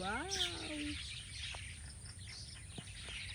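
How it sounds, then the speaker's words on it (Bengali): Common myna birds call out in a burst of rising, squawking notes, then fade into a steady outdoor background hum. "এত শালিক পাখি"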